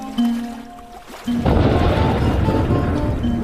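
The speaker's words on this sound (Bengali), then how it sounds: "দেখি আবার বৃষ্টি শুরু হচ্ছে" Thunder rumbles in as rain suddenly begins, a broad low roar and patter building quickly and staying heavy, with faint tonal hum beforehand.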